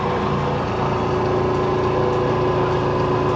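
An old off-road vehicle's engine runs at a steady idle with an even, moderately quiet drone throughout, alone and without talk, at a desert jeep club in Dubai.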